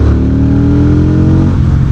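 A VOGE CU625 AMT cruiser motorcycle with an automated manual gearbox accelerates, its engine note loud and close, rising steadily before a brief dip as it shifts up a gear.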